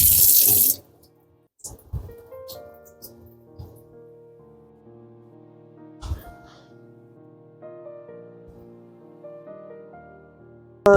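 Water runs from a pipe to wash indoor plants: a hissing gush at the start, then scattered splashes and drips with ringing tonal resonances as water fills and drains from the pots.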